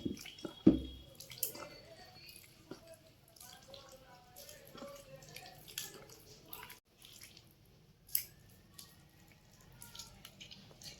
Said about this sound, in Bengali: আর কিছুটা জল দিতে হবে, অনেকটা ঘন আছে।